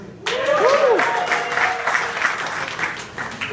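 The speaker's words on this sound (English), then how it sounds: "Could y'all give a round of applause for alcohol?" An audience in a bar at an open mic night breaks into a short burst of clapping and cheering, close and lively, fading slightly over a few seconds.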